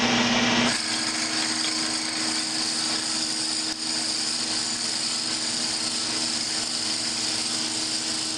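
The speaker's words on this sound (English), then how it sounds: "I'm going to go ahead and center drill this." A steady power tool whirs and grinds into plywood without a break, center drilling, loud and close, starting abruptly after a brief moment.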